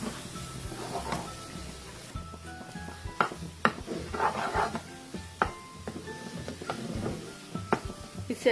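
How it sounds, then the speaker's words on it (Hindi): Spoon scraping and stirring stuffed brinjal (bharva baingan) in masala as it fries in a pan, with irregular clinks and knocks over a soft, low sizzle, fairly close and without speech. "हमें स्पून चलाते रहना है वरना ये नीचे लग जाएगा पैन पे।"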